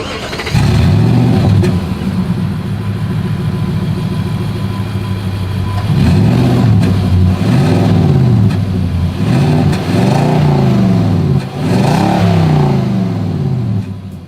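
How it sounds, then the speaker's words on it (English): A 2023 Nissan Titan Pro-4X pickup truck engine rumbles loudly and continuously, with several throaty revs rising and falling through the exhaust. "what we have to do next is always here is that exhaust clip"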